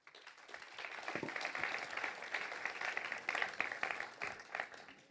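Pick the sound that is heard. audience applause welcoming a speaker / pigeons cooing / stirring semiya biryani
audience applause welcoming a speaker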